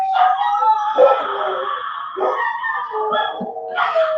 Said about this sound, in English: y'all are probably hearing my puppies barking